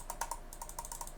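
A Roitze laptop mouse gives a rapid run of small, quiet clicks, about a dozen light ticks in quick irregular succession, close up and faint.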